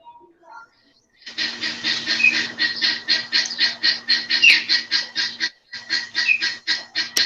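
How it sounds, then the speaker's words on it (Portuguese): A bird calls close by, a rapid series of loud, evenly pulsed chirping notes repeating for several seconds with one short pause, heard during an indoor science lesson. "Opa, tem um pássaro aí,"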